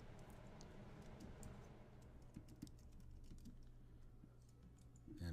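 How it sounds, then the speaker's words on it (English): Computer keyboard typing with rapid, irregular clicks of keys in a steady quiet run while data is entered into a chart, faint with a low hum beneath and no talk. "I'm just typing it in there"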